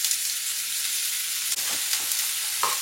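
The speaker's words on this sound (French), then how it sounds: "l'huile a chauffé, je vais pouvoir ajouter l'oignon émincé" Sliced onion dropped into hot oil in a pan, giving a steady broadband sizzle and hiss throughout, with a few soft clatters of stirring near the end.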